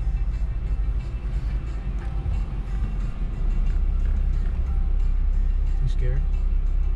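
A Jeep with a 3.6-liter Pentastar V6 climbs a 35-degree hill at an auto show ride event, its engine a steady low rumble that swells partway through, heard from inside the vehicle with a voice over it.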